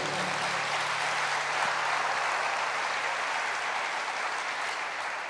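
A congregation applauds in church, a steady, dense wash of clapping that holds at an even level throughout.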